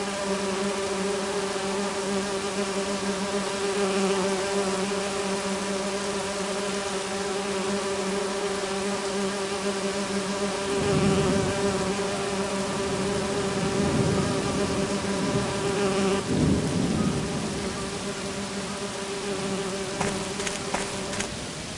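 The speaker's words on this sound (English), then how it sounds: "I need to subdue the bees first." Bees buzz around their artificial hive in a dense, continuous drone that stays steady throughout, with occasional louder swells as insects pass close, and no voices.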